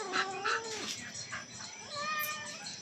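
Several cats meow and yowl in overlapping, drawn-out cries, fairly close, with pitch rising and falling across the stretch.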